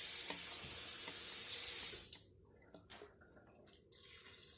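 Tap water runs steadily into a cooking pot for homemade ravioli broth, a loud continuous splashing stream for about two seconds, then cut off, leaving a few faint drips and small clinks in a quiet kitchen.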